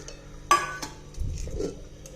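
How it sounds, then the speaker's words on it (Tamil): A spoon stirs jaggery into a pot of pasiparuppu payasam with sago, giving a short metallic clink followed by soft scraping and sloshing close by, with no talking. "வெல்லம் கரைஞ்சோன்னு கரையிற வரைக்கும் நம்ம கிண்டிட்டு இருக்கணும்."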